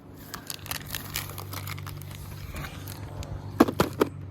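Plastic bags crinkling and rustling in close, uneven bursts, with a few louder crackles near the end.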